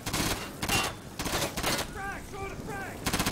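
Gunfire from the tactical shooter Insurgency, several sharp broadband shots in quick bursts near the start, mixed with short whistling game effects and in-game chatter.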